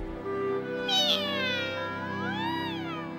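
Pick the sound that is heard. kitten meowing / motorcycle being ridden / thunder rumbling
kitten meowing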